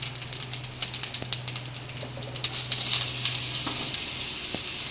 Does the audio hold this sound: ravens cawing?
no